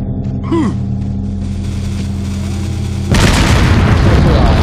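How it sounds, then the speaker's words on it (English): A shotgun fires in Resident Evil 4 with a sudden heavy blast, and a dense roar of game noise holds loud afterward. A short gasp-like sound comes just before it. "I'm just going to switch to the shotgun and walk right up to these assholes"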